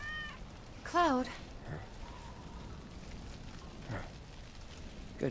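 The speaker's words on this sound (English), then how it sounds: "Good kitty." In Final Fantasy VII Remake, a cat lets out one clear, fairly loud meow against a quiet game background, with faint voices and a couple of soft short sounds afterward.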